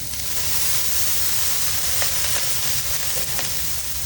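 Thick steaks sear in a hot pan, giving a loud, steady, close sizzle with a broad hiss and faint crackling pops all the way through.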